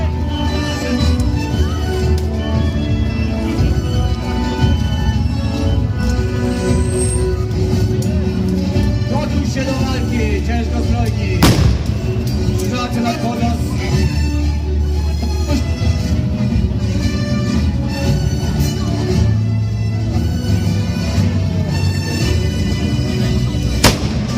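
A medieval siege reenactment at Chojnice brings continuous loud gunfire and heavy artillery booms over a constant outdoor roar, with voices shouting through the din.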